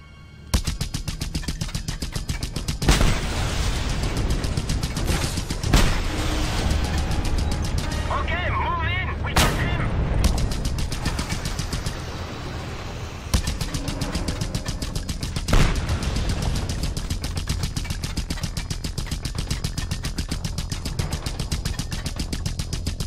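Rapid bursts of gunfire and explosions as fuel tanks are blown up in Just Cause 2, loud and continuous with heavy booms over a steady engine-like rumble, with someone talking at times.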